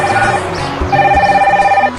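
A telephone rings with a loud, close electronic trill in two bursts separated by a short pause, with a low thud and some background sound between them.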